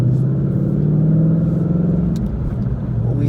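A 2019 Ford Mustang GT 5.0 Performance Pack 2 pulls away with a loud, deep engine rumble and rising revs, heard close from inside the car.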